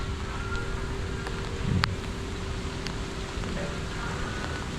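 Steady rain falls during a typhoon near a farm pond, a constant close hiss with faint scattered drips and a light gust in the middle, no voices.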